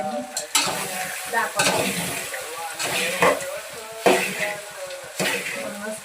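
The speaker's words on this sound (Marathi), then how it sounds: "आता त्याला मी मस्त खालीवर करून घेते चमच्याने" A spoon turns puffed rice in a hot pan, making repeated scraping, rustling strokes about once a second over a light sizzle, with a brief spoken word partway through.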